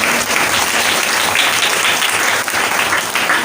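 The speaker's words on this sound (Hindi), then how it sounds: "ताली बजा के प्रभु को धन्यवाद।" A church congregation claps loudly and continuously, a dense wash of many hands applauding together, close and steady with no voices rising above it.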